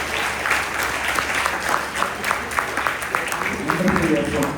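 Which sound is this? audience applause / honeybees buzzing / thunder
audience applause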